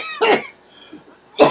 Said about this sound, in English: I got a cough on that one